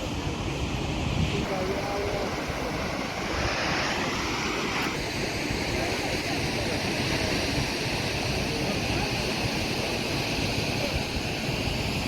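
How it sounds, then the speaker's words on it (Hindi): Chitrakoot waterfall in Chhattisgarh roars as a steady, broad wash of rushing water heard from a distance, blended with wind buffeting the microphone; no clear talk over it. "बहुत ही बढ़िया वाटरफॉल है। बहुत ही सुंदर फ्लो कर देखो।"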